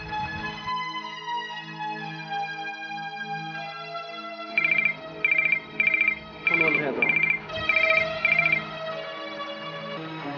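Electronic phone ringtone from a Newari folk drama, repeating in short bright bursts over a steady background tone, with a voice talking briefly in between.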